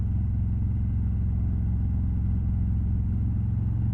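A motorcycle engine hums steadily while riding, a constant low rumble with an even pulse throughout, close and moderate in level with no talking.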